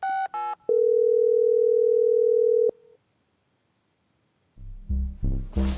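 Phone in a detective video game: a few short dialing beeps, then one long steady call tone lasting about two seconds, a brief trailing tone, silence, and a voice speaking at the end.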